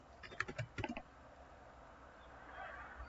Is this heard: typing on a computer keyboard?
yes